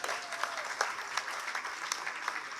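Audience applause at a social work conference in Africa, a brisk steady patter of many hands clapping at moderate distance.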